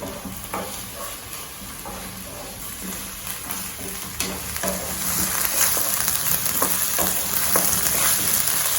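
Ginger and garlic sautéing in a pan for paneer potato cutlets, a dense close sizzle with scattered clicks of stirring that grows slightly louder toward the end.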